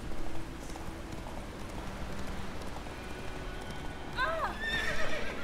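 Game sounds from The Witcher 3: Wild Hunt of horse hooves clopping steadily over a low background, then a loud, shrill whinny near the end.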